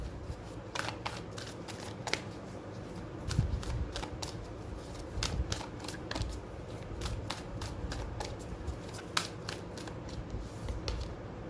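Oracle cards are shuffled by hand in soft, rapid riffling bursts that repeat steadily and fairly quietly across the whole stretch, with no talk.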